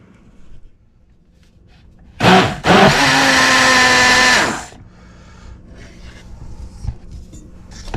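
A kitchen blender purees cooked vegetables for minestrone soup, starting with a short burst, then running loud and steady for about two seconds before cutting off into quiet room sound.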